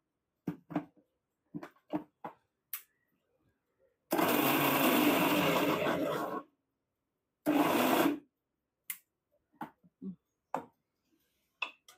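A kitchen mixer blends four bananas in two loud, steady whirring runs, one long and one short, between quieter bumps and clinks, while someone speaks briefly nearby.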